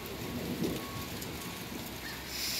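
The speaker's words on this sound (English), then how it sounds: "Thundering and lightninging outside." Steady rain falls outside during a June thunderstorm, with a soft roll of distant thunder rumbling low beneath the patter. Quiet overall, and no one speaks.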